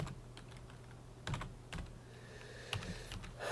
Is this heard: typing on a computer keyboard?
yes